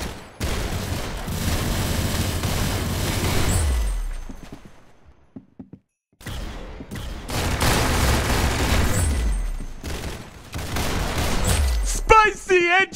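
Gunfire in the Roblox game Arsenal comes as two long, dense bursts of rapid shots, each trailing off in a fading rumble, with a short quiet gap between them and a few sharp electronic tones at the end.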